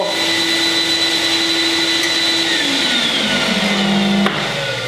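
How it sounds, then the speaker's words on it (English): Workshop dust extractor droning loudly beside a bandsaw, a steady whine whose pitch sags as it spins down, with a click near the end. "turn the extractor off."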